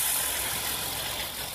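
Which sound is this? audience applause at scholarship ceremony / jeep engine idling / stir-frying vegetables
jeep engine idling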